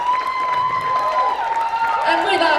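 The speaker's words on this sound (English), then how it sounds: "Offer her a round of applause, please, for the incredible work that she's been doing this evening." An audience at a burlesque show claps in a steady round of applause for the stage manager, with crowd noise and a tonal hum running under it.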